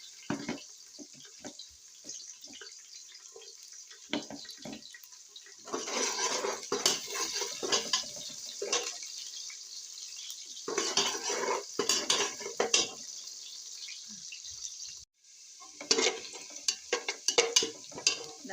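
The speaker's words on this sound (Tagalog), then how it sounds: "start na tayong maggisa ng sibuyas" Onions and then garlic being sautéed in a pan for a corn and sponge gourd soup, with a steady sizzle under repeated clinks and scrapes of a utensil stirring against the pan.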